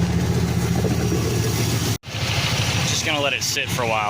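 A car engine idles steadily while its cooling system, still holding air and bubbling, is bled after repair; someone speaks close by over the constant low hum, which briefly cuts out partway through.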